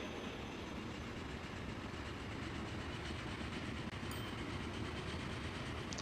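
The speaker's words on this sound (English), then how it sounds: "Okay, train 12 is on the move." Train rolling along in Transport Fever 2, a steady broadband rumble of wheels on rail with faint clickety-clack, constant and unbroken with no talk.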